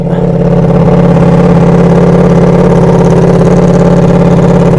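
A V4 Pikes Peak motorcycle engine running steadily, a loud, close, continuous rumble with an even throb that holds for the whole stretch, with no voices over it.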